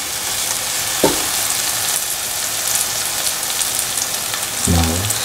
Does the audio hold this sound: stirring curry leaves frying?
yes